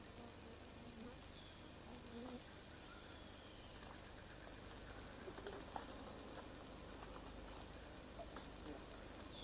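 Bees buzzing around a wild honeycomb in a Central African forest, a faint steady drone with a few passing insects flying near, under quiet forest ambience and faint distant voices.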